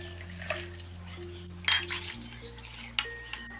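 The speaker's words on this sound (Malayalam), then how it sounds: "ഈ 3 കപ്പ് വെള്ളവും ഇതിലേക്ക് ഒഴിച്ചു കൊടുക്കാം." Three cups of water are poured into rice batter for paalaada in a home kitchen, giving a faint splashing trickle with a few soft clinks of utensils over a low background hum.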